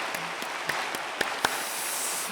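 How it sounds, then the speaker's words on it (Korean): Congregation applauding the Hosanna choir during a Sunday worship service at a Korean church: a steady wash of clapping from many hands, with a few sharper individual claps standing out. "우리 찬양으로 섬겨주인 호산나 찬양대 우리 감사의 박수 하겠습니다"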